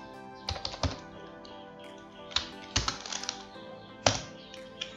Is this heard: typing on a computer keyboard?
yes